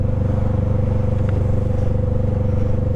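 A motorcycle rides past a roadside radar sign, its engine holding a steady, throbbing drone with a constant low pulse, close and continuous with no talk.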